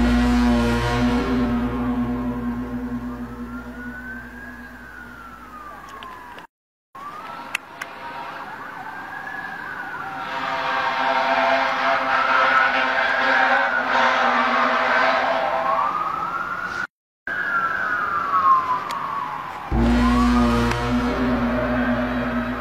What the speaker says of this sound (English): Police sirens and cop cars could be heard riding all around as panic breaks out in the city.